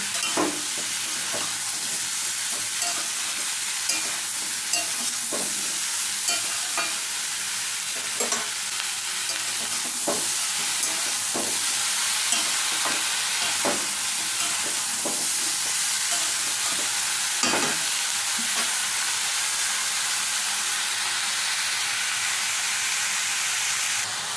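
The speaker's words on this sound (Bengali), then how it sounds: "এবার ভালো করে সবজির সাথে মিশিয়ে নিচ্ছি" Steady sizzling of mixed vegetables frying in a hot pan, with a spatula scraping and stirring at irregular intervals throughout.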